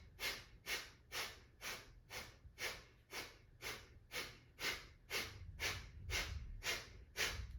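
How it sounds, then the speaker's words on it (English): Rhythmic nasal exhalations during a breathing exercise, about fifteen sharp, even puffs of air forced out through the nose at a steady pace, close and fairly quiet with no talking. "if you want to try it through the nose, just focus on the exhale."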